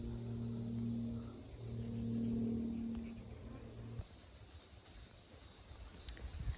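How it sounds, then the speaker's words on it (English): Insects chirp in a tree in a steady, dense buzzing drone that swells loud and then eases, one pitched chorus giving way to a higher shrill trill midway, with no talk. "Sounds like these bugs are having a party up in this tree. It's like getting really loud and then calming down."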